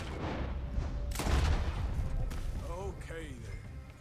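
A sharp, booming gunshot from Red Dead Redemption 2 cracks out once near the middle, with a fainter shot following, over a steady game background while someone talks.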